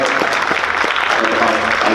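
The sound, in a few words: parents applauding themselves at appreciation night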